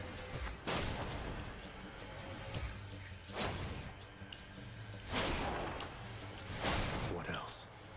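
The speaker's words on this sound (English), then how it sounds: "I get the impression that I cannot take damage from my own explosions here." Charged shots detonating as explosions in a video game, four broadband booms spaced a couple of seconds apart over a constant backdrop of game sound and voice.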